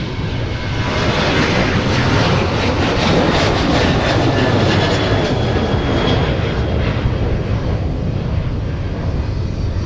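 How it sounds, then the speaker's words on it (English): A United Airlines jet takes off for Chicago O'Hare, a loud, close, sustained engine roar with a rising whine that holds steady throughout. "United Airlines headed off to Chicago O'Hare."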